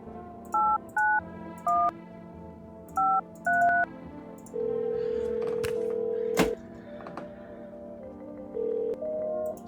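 Telephone keypad tones in the video game No, I'm Not a Human: a run of short dialing beeps in an irregular rhythm, then a longer steady tone broken by a sharp click, followed by a few more beeps.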